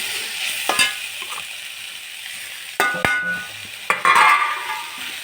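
Vegetables with pepper powder and grated coconut sauté in a pan for vegetable rice, giving a steady close sizzle with occasional scraping and stirring clatters.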